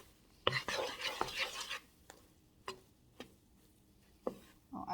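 Marshmallows being stirred as they melt in a pan for cereal bars, with a scraping, stirring burst followed by a few separate soft clinks and taps of the utensil against the pan, close and fairly quiet.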